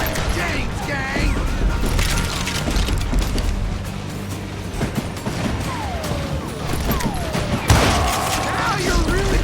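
Gunfire in the western video game Call of Juarez Gunslinger, rapid bursts of shots and ricochets mixed with mechanical clatter and game music, under shouting voices throughout.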